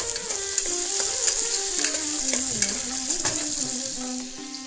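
Chopped onion and eggplant fry in oil with mustard seeds already popped, making a dense, continuous sizzle close by that holds steady throughout with faint stirring clinks.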